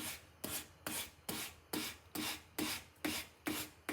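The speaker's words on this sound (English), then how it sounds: "If you want to sand the surface, you're more than welcome to do so" A wood surface being hand-sanded in rhythmic back-and-forth strokes, about two per second, each a close, raspy scraping swish, with no talking.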